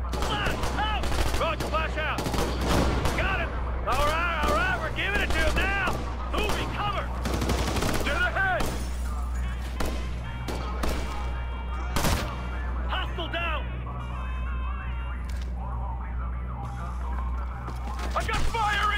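Gunfire from Ghost Recon Future Soldier, rapid bursts of automatic fire and single shots crackling loudly and densely throughout, mixed with shouted voices and combat chatter.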